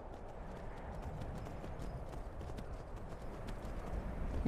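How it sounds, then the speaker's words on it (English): A horse's hooves clip-clop in quick, even steps in the video game Skyrim, a dense and steady gallop heard alone against a low background rumble. "But we have a Skyrim horse."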